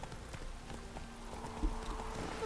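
Hooves clip-clop in a quick, even galloping rhythm as a horse runs in the video game The Witcher 3, fairly quiet and with no speech.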